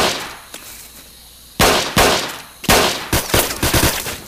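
Sharp gunshots in the Vietnam War shooter game Vietcong, fought near a river. After a quiet start the shots ring out alone, first spaced apart, then faster and clustered toward the end.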